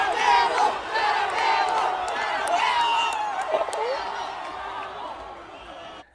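A crowd at a dog racetrack roars and cheers steadily as a dog runs past, a dense, continuous wall of voices with people talking over it.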